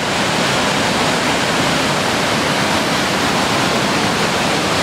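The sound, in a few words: river flowing and water rushing over a drop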